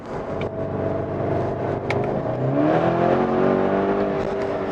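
A Skoda Octavia RS 245 TFSI, front-wheel drive, pulls uphill in second gear with brief wheelspin; its engine note is loud and close, holding steady before the pitch climbs as it accelerates.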